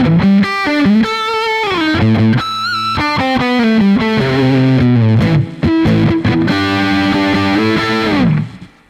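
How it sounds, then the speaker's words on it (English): Heavily distorted electric guitar with a classic 80s rock tone through a Sunset Strip amp preset, playing chugging chords and sustained notes up close at steady loudness before ringing out. "This is your classic 80s rock and roll distortion guitar sound."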